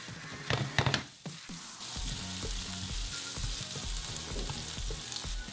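Onions drop into hot bacon lard with a few thuds and clatters. A steady, close sizzle with soft bubbling follows and continues to the end.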